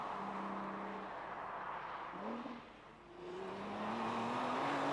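A Nissan GT-R drives past with its engine note climbing through the gears, a steady rising tone that dips briefly during a shift and then pulls again, with road and wind noise underneath.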